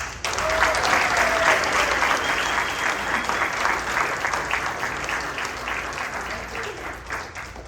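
A meeting audience bursts into sustained applause for an introduced guest, a dense, steady wash of many hands clapping close by that holds for several seconds before thinning slightly near the end.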